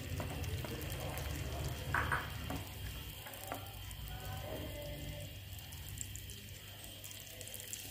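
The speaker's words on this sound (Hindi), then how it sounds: "ये घी हमारा हो गया गरम। अब इसमें हम प्याज ऐड करेंगे।" Onions hit hot ghee in a pan and fry with a soft, steady sizzle, faint and continuous, with a few stirring clinks partway through.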